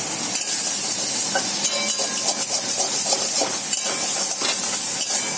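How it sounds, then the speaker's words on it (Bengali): Greens mixed with eggplant are stirred in a pan on the stove, a continuous frying sizzle broken by soft scraping and clicking of the utensil. "এবার এটার সঙ্গে একটু বেগুনটা মিশিয়ে দিলাম।"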